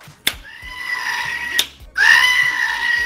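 A goat in the video game Back 4 Blood bleats again and again as it is pressed, loud, strained, scream-like cries in quick succession with sharp clicks between them.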